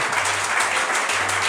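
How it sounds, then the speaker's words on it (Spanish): A church congregation claps together during a sermon, a loud, continuous wave of many hands applauding with a faint low hum underneath. "Den ese aplauso por el alma del Señor."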